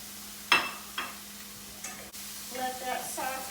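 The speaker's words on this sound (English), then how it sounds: "Let that saute up a bit as well." Hearts of palm and mushrooms sautéing with a garlic mixture in a pan, a faint low sizzle broken by a few utensil clicks and stirring scrapes.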